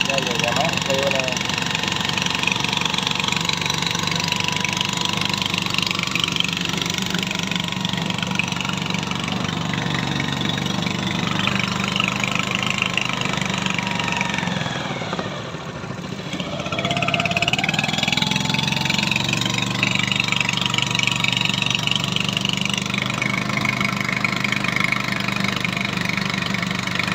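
A yellow Honda 20hp engine on an 8-metre boat idles with a steady, loud, rumbling chug throughout, dipping briefly in the middle before settling back to the same even running sound.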